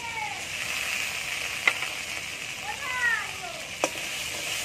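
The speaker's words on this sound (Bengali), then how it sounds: "ভালো করে কষিয়ে নিতে হবে।" Tomato and spice masala with whole chillies and cumin paste sizzles in a pan for tel tangra, a steady close frying hiss with a few clinks from stirring.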